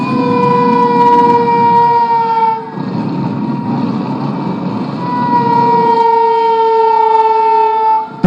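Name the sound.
civil defense air raid siren in blackout mock drill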